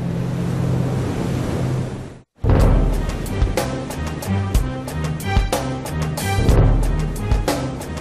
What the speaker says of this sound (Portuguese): Em alto mar, navios e plataformas conectados a poços de petróleo são castigados incessantemente por ondas, ventos e correnteza.